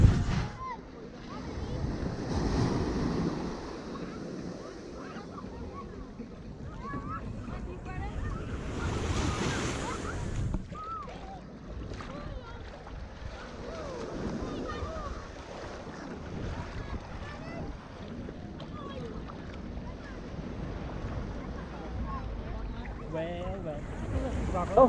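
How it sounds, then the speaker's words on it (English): On a beach in Barbados, ocean waves wash and roll continuously over steady wind buffeting the microphone, with people speaking faintly in the background now and then. "here we are in Barbados, on the beach"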